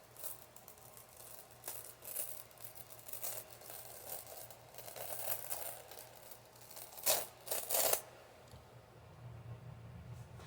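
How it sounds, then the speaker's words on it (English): A stencil peeled away from an embellished surface gives soft crinkling and tearing rustles, rising in short bursts toward the end, quiet and close. "let's see what happens when we pull this stencil off"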